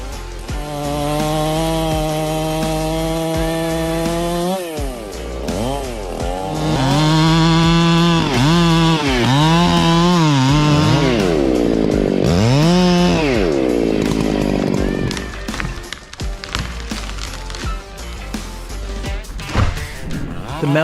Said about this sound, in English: The long chainsaw blade is impressive, making felling large trees easier and more efficient than ever.